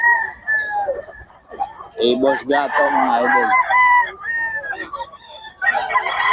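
Roosters crow and chickens cluck loudly up close at a poultry market, overlapping each other, while someone talks over the birds.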